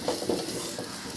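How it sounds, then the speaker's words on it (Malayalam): Spice powder gets stirred into a sizzling egg mixture in a pan, with a short burst of soft scraping and steady frying hiss heard up close. "എന്നിട്ട് നമ്മൾ നന്നായിട്ടൊന്ന് മിക്സ് ചെയ്യാം."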